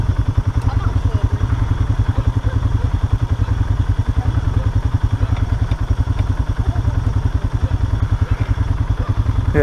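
An ATV engine runs close by with a rapid, steady pulsing chug, loud and continuous throughout, a rider's voice occasionally heard over it.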